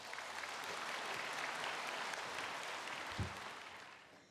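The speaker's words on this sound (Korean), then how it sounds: "우리 모두가 다 따뜻한 박수로 환영해 주십시오" A church congregation gives a warm round of applause during a service to welcome a woman coming forward after her baptism. The clapping is dense and sustained, with a brief thump near the end, then it slowly fades.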